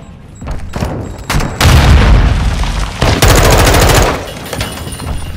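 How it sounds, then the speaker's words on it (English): A grenade explodes during a Call of Duty: Modern Warfare II match, a loud booming blast amid bursts of automatic gunfire, with several close explosions and rattling shots over a few seconds. "Grenade out!"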